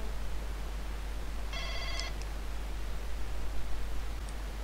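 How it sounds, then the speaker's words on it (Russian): A phone rings once with a brief electronic trill for an incoming call, faint and under steady background hiss. "Это кто звонит мне?"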